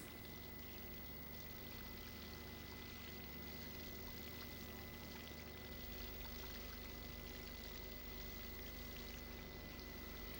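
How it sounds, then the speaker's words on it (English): Water pouring and draining out of a cheese tub through a strainer during Gouda cheese making, a faint, steady, continuous rush of flowing liquid with no talk. "And the water is drained off."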